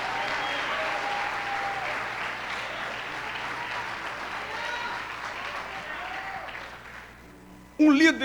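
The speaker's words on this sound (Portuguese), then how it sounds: "Só quem crê aplauda" Church congregation applauding during a Portuguese-language sermon, a steady wash of many hands clapping in a large room that fades slightly before a sudden loud burst at the very end.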